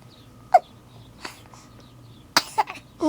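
A five-week-old baby lets out small sneezes and snuffly breaths, several short bursts with the strongest toward the end, close but fairly quiet in a still room, no talking.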